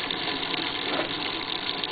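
Water gushes and splashes steadily inside a washing machine during its rinse cycle, a continuous close rushing flow with no voices.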